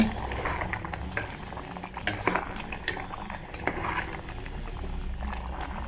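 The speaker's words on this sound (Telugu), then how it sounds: "మళ్ళీ ఒకసారి బాగా కలుపుకోవాలి" Chicken and mutton curry being stirred in a pan, with a steady simmering bubble under repeated clinks and scrapes of a spoon against the metal.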